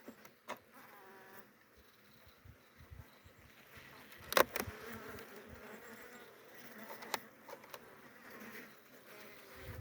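Honeybees buzz faintly around a nucleus hive wintering in a polyurethane foam box, with occasional louder passes of individual bees close by against a quiet outdoor background.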